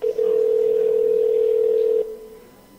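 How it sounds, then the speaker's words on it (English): A telephone dial tone hums as a steady, loud, pure note for about two seconds, then cuts off to near silence. "It's dialing."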